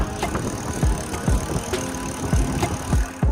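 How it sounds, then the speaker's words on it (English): Chunky freehub clicking from the rear hub of an ENGWE EP-2 Pro e-bike ridden slowly on throttle only, heard as a low ratcheting texture with several sharp, close knocks and rattles along the way. "they're using a different free hub in the back. It's got a nice chunkier sound to it."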